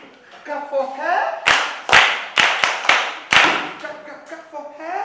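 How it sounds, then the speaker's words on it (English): A class claps for a girl: several sharp bursts of group clapping in separate rounds, set between a teacher's spoken lines and mixed with talk. "Clap for her!"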